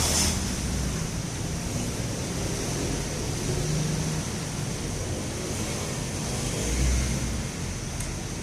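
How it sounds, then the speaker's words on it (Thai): Heavy traffic from many cars on a busy street forms a continuous loud, broadband roar and hiss, with wind-like rushing and occasional swells as vehicles pass close by. "เสียงรถมันดังมาก นะครับ รถเยอะมากนะครับ"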